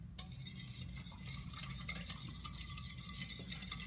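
A child whisks a homemade root beer kit mixture in a bowl, with steady scraping and rattling strokes up close and continuous, with no one talking.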